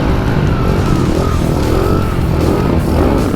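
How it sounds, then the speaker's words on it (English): A fat motorcycle engine revs and drones steadily and loudly up close on a parking lot, holding a continuous rumble with slight swells as the rider tries to spin circles on the tires. "that bike is fat as hell"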